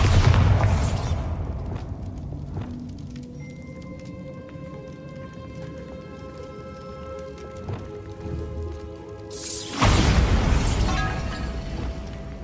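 A Bombarda spell blast in Hogwarts Legacy, a loud roaring explosive burst at the start and another near the end, with ringing, shimmering debris tones between them.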